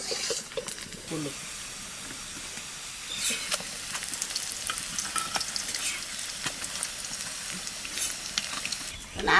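Mutton hits a hot pan and fries with a continuous hissing sizzle, broken by scraping stirs and clatter of a spatula, close and fairly steady.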